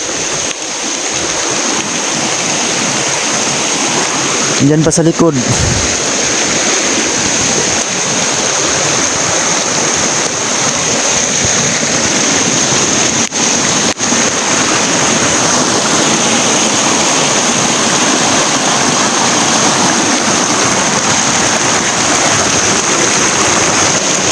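Heavy rain pours down in a steady, dense roar that hardly changes for the whole stretch. A brief thump comes near the start, then a few faint knocks, and nobody speaks.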